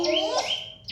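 Small sparrow chirping near a house, a few short bright tweets over a quiet background.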